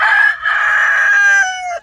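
A rooster among free-range chickens lets out a single loud, close crow, one sustained strained call lasting under two seconds and ending abruptly.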